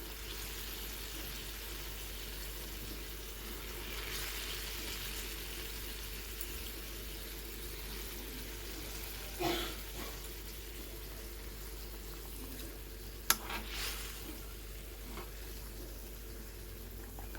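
Tilapia fish frying in a mustard spice sauce gives a steady, soft sizzle that holds throughout, broken by a couple of brief clattering knocks near the middle.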